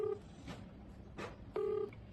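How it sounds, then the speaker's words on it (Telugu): A phone call rings out while waiting for an answer, with two long electronic ringback tones about 1.4 seconds apart, fairly faint and clean, with soft bursts of background noise between them. "రింగ్ అవుతుంది."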